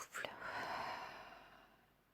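A slow, breathy exhale during a guided relaxation exercise, a soft airy rush that swells briefly and then fades gradually over about two seconds, close and quiet, with no talk.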